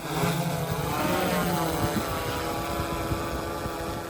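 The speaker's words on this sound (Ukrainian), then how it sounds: "Безпілотники це одні з ключових інструментів сучасного прикордонного загону." Border guard drone (UAV) in flight, a steady droning propeller buzz that holds loud and even throughout, with no speech over it.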